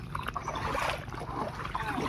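Water lapping and sloshing against a small bangka boat nearby off an island, with a low rumbling hum underneath and light splashing throughout.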